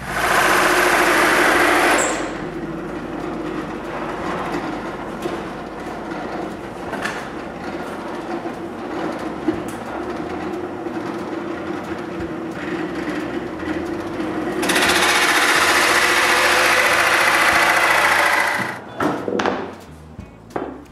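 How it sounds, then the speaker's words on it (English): A drill cuts a large hole for a dust extractor through wood on a mitre station. A steady, loud whirring grind runs almost the whole time, rising to a higher pitch near the start and again later, then winding down to short bursts. "drill the dust extractor hole"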